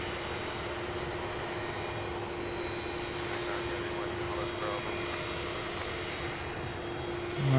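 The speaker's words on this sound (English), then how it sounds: "we have a 757 landing now" Boeing 757 airliner landing at Louisville's SDF airport, a steady loud engine roar with a droning tone that swells slightly at the end, heard from outside.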